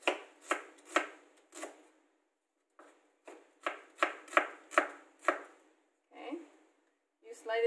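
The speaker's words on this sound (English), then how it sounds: "for shallot, how you do it, you slice them thin" A knife slices shallots thin on a cutting board for Khao Soi chili paste: crisp, close chops in quick bursts, several in a row, then a pause and another run of cuts, with faint brief voice-like sounds near the end.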